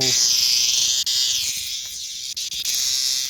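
A large cicada, a male Meimuna opalifera, buzzes loudly and continuously up close, a harsh shrill drone with a few brief dips.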